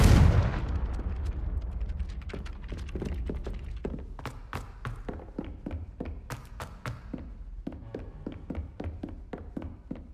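A Confringo fire spell in the video game Hogwarts Legacy erupts in a heavy opening blast that decays into a scatter of sharp crackling pops and thuds, irregular and gradually thinning out.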